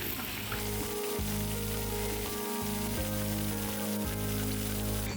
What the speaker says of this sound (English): Bring to a boil over high heat.